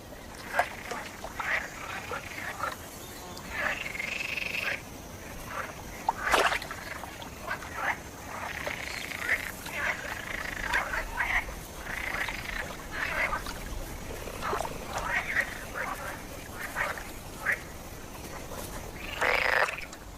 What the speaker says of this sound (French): Ces inlassables choristes sont des grenouilles vertes, des mâles en quête d'une partenaire.